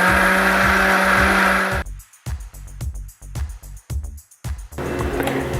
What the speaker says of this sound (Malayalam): ഇനി നമുക്ക് മിക്സിയിൽ നല്ല ഫൈൻ പേസ്റ്റായിട്ട് അരച്ചെടുക്കണത്